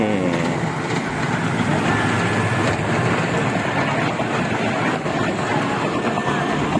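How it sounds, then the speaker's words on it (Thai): A miniature train at a cafe rolls in with a steady, continuous rumble and rattle of wheels, close by and fairly loud throughout. "รถไฟมาแล้ว"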